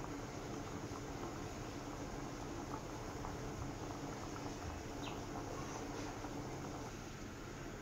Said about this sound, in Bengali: তো দেখো ফুটছে, প্রায় সিদ্ধ হয়ে এসছে